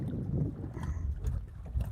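Wind gusting over Lake Morena while fishing for largemouth bass from a boat, a steady low buffeting rumble across the mic with brief stronger gusts, no talk.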